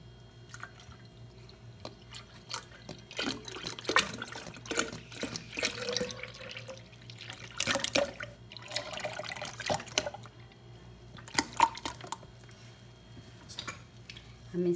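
Milk being poured into a glass of Rooh Afza syrup drink, soft liquid splashing and trickling in uneven bursts, close and fairly quiet, with no talking.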